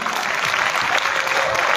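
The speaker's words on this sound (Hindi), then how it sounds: "इनके लिए जोरदार तालियां।" Loud, dense applause from schoolchildren at a school event in Okhla, Delhi, clapping steadily and filling the space without a break.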